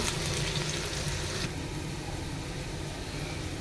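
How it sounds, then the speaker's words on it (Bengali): Chopped onion and garlic frying in hot oil in a frying pan, a loud, close, steady hiss that drops slightly in brightness partway through and then continues evenly. "চুলায় একটা ফ্রাই প্যান বসিয়ে তেল গরম হয়ে আসলে দিয়ে দিচ্ছি পেঁয়াজ আর রসুন কুচি, দিয়ে 2-3 মিনিট একটাকে ভেজে নেব।"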